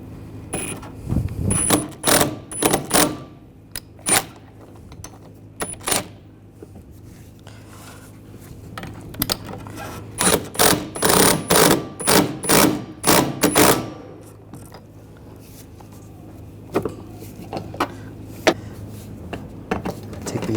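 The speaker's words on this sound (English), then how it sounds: "I'm just going to use a puller. Just get this lined up. Just tighten this down." A puller being tightened on a front strut of a 2009-2017 Volkswagen Tiguan during a strut mount replacement, giving bursts of rapid ratcheting clicks in several runs with pauses between, close up and with no talk.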